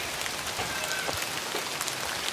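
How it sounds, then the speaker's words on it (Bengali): Heavy rain pours down in a dense, steady hiss of close raindrops pattering on surfaces, unbroken and fairly loud for the whole stretch, with no voices. "অনেক বৃষ্টি মোবাইল ভিজে পড়ছে"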